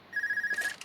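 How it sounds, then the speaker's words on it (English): Phone ringtone from the Trails of Cold Steel video game, a brief, bright electronic trill lasting under a second at moderate loudness, with no talking over it. "Phone?"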